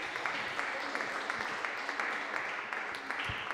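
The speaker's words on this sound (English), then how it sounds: "Applause for you," Audience applause at a book presentation on art and design education, a steady wash of many hands clapping throughout, moderately loud and even with a few sharper claps standing out.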